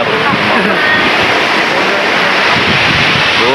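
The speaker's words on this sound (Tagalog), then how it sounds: "malakas-lakas yung alon" Strong midday waves break at a beach in Mauban, Quezon, a loud continuous roar of surf mixed with heavy wind buffeting on the microphone.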